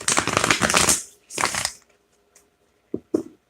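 A deck of cards being shuffled at close range, two quick riffling bursts followed by a few soft taps and snaps of the cards, with no talking.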